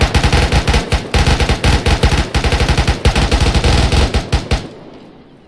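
Rapid automatic AK rifle fire in a military video game, loud close bursts of repeated shots over about four and a half seconds, then a fading echo tail.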